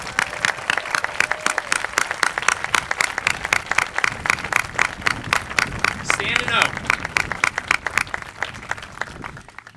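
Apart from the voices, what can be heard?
audience applause at a press conference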